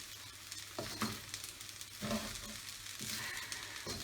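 Fried rice stir-frying in a hot pan with oriental chicken noodles, a steady close sizzle broken by several scraping stirs of the utensil, with no voices.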